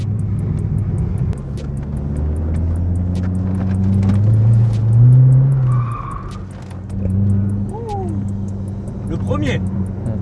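A 755-horsepower Chevrolet Corvette C7 ZR1 drifts with a loud, close engine roar that swells and dips, and tires squealing across the surface.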